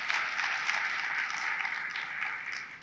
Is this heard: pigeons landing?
no